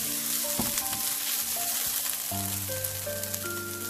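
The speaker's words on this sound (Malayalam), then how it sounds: "ഇത് നമുക്കൊന്ന് ആ മഞ്ഞളിൻ്റെ പച്ചമണം ഒന്ന് മാറുന്നവരെ ഇളക്കി കൊടുക്കാം." Tapioca tossed with turmeric powder sizzles steadily in a pan as it is stirred, a dense close frying hiss with faint tonal hum in the background.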